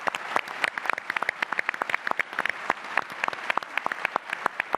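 A crowd at a gubernatorial debate gives a round of applause, many distinct claps layered into a steady rapid patter, somewhat distant and moderately soft, with no talk over it.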